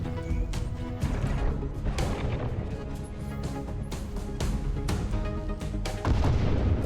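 Cheap missiles slam into a starship in the space combat game Breachway, a rapid string of booming, crashing impacts layered over steady game music.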